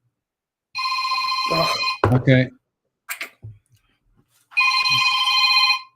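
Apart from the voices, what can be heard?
telephone ringing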